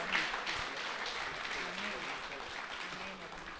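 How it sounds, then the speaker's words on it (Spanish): Faint, steady applause from a church congregation continues throughout, with a voice speaking over it. "Recibamos a la hermana con un aplauso de afecto."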